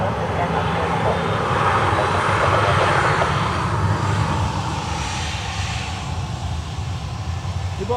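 A Ryanair airliner landing at Dublin Airport with a light tailwind gives a steady, loud roar of aircraft engines that holds across the whole stretch, broad and rumbling, with no talk over it.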